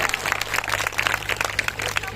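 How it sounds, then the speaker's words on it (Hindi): Applause from a crowd at a Buddhist third-day village gathering in Pakadiya Hakim, a steady patter of many hands clapping throughout with a low hum beneath. "जोरदार तालियां सभी के लिए बजा दीजिए आप"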